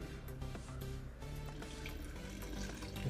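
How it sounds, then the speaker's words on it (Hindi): Water is poured slowly into a dough kneading machine in a kitchen. The splashing and trickling stay steady and quiet for a few seconds, with faint machine hum underneath. "ये होने के बाद जो है वो इसमें हम पानी डालेंगे।"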